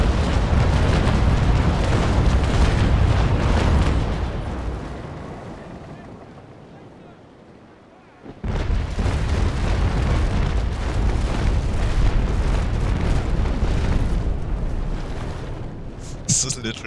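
Naval cannon broadside fire in a ship battle game, a dense roaring barrage of booms that fades away, goes nearly quiet, then bursts back in heavy and continuous, while a voice talks over the action.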